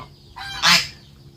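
A goose gives a single loud, nasal honk close by, with quieter honking just before it against a calm background.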